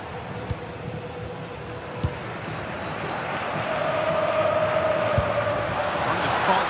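Football video game stadium crowd, a broad roar of fans that swells gradually in the second half, steady and somewhat distant with a few sharp thuds over the top.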